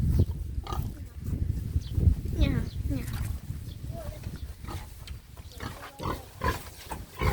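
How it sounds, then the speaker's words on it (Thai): A very large pig, heavily pregnant and close to giving birth, grunts repeatedly on a big Thai farm, with low rumbling snorts under a voice talking nearby. "จะเป็นหมูนะคะ อันนี้ตัวใหญ่เท่าวัวเลยนะคะ"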